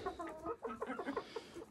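Hens in a chicken coop cluck in quick, close, overlapping bursts for a moment, with no talking.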